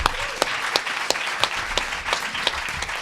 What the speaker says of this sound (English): want to give a huge round of applause and extend our gratitude to our panelists today